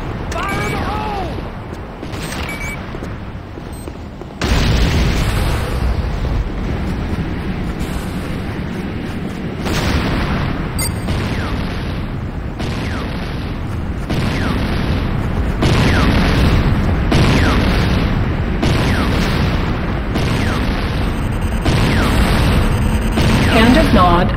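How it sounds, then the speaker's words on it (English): C4 charges detonate in Command & Conquer Renegade in a run of heavy booming blasts, one after another, loud and close, with crackling debris and rumbling between the bursts. "C4 is set. Fire in the hole!"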